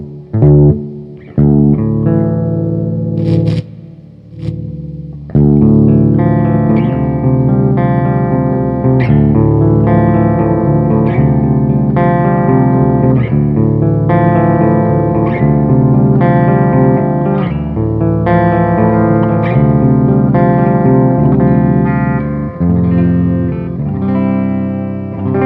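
Electric guitar played through a Crate amplifier's clean channel with reverb on, a few picked notes and a pause before steady strummed chords and melodic lines ring out loud and close.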